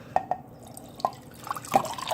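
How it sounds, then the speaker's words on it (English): Water pours and drips in a few distinct close plinks and splashes, irregular and fairly quiet, with no talk. "Look how I have to pour in water."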